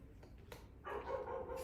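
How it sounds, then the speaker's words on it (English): A neighbor's dog barking and yipping at a distance, a short bark followed by a longer whining, yelping stretch, faint and slightly muffled indoors. "Forgive my neighbor's dog."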